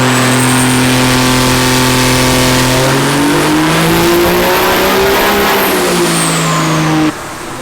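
A Cummins diesel truck engine pulls hard on a dyno, a very loud, close roar whose pitch climbs steadily, peaks and then drops sharply as the throttle lifts at the end.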